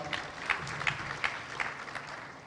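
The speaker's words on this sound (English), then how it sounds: "One more round of applause for Kushal." Conference attendees at a water and sanitation gathering in Mombasa clap together in a moderate, even round of applause, with a few louder rhythmic claps standing out from the crowd.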